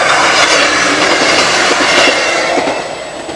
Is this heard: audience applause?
no